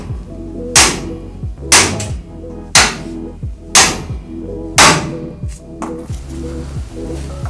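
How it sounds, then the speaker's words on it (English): Hammer blows pop the lower ball joint on the front suspension of a 1960-1988 Chevy C10. Six or seven loud, close metallic strikes land at a steady pace, about one per second. "So let's pop that lower ball joint."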